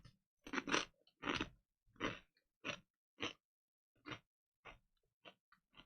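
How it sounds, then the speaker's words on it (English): Close, crisp crunching and munching of food, about ten distinct bites and chews spaced irregularly, loud against near silence with no talking. "Hold on, I'm munching."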